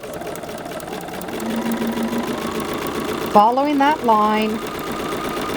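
A sewing machine runs steadily, stitching fabric for a Milky Way wall quilt block, with a continuous mechanical hum throughout and a person talking briefly near the end over the stitching.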